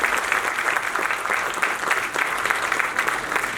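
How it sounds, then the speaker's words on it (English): An audience at an Oxford-style arbitration debate applauds during a felicitation, loud and steady clapping from a packed hall, dense and unbroken for the whole stretch. "Can we have the applause going, please?"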